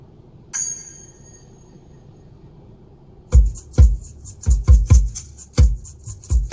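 A single ring, then a pause, then heavy bass-driven music thumps in with loud, rhythmic low beats through an aftermarket speaker system in a Mercedes-Benz C43 Coupe, making the roof and rear-view mirror vibrate.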